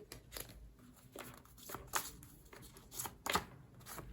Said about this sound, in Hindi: और कुछ कार्ड्स में निकालती हूँ, कुछ कार्ड्स है।